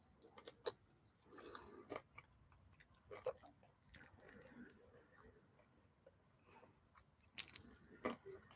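Chewing of cranberry chicken salad with walnuts and crunchy celery, close and quiet, with scattered crisp bites and crunches in irregular rhythm and soft mouth sounds between, no talk.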